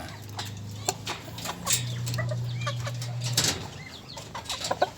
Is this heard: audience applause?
no